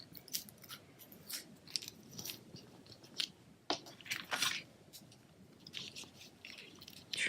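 Small scissors snip through paper being trimmed for a handmade card, a quiet, irregular series of crisp cuts close by.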